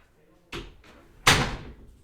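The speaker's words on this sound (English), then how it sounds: "Close the door." A household door is shut: a lighter knock first, then a loud, close slam with a heavy thud and a short rattle that decays quickly. Background speech sits faintly under it.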